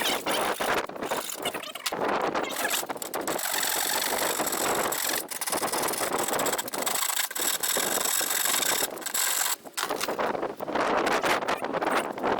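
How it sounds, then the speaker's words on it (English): Steady, coarse scraping from a hand rasp working wood, continuous and close, with rapid back-and-forth strokes and only short pauses between passes. "So this is a rasp, which takes off big bits"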